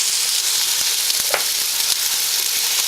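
Beef rouladen fry and brown in a hot pan, giving a steady, close sizzle with faint crackles and a few small stirring knocks throughout.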